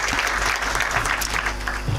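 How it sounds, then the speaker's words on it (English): Hearty audience clapping for lecturers at a college graduation ceremony, a dense, continuous patter of many hands at close-to-moderate distance with no voices over it. "Let's give them a hearty clap."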